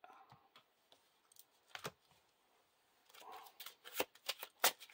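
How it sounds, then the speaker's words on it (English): Playing cards from a Lord of the Rings card game discard pile are shuffled back into the deck, giving soft riffling bursts that grow into sharper, quicker snaps near the end, close and fairly quiet. "now we have to shuffle the encounter, discard pile into the encounter deck"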